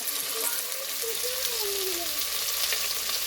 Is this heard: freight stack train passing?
no